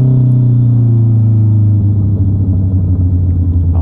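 A Honda CB650R motorcycle engine decelerating after the throttle is rolled back, a loud, close, steady low rumble that drops slightly in pitch as it slows, with no talking.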